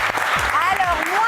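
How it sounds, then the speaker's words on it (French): A TV studio audience on a talent show applauds candidate Cyril, a short wash of crowd clapping beneath a presenter's voice. "Cyril, qu'on applaudit très fort. Bravo!"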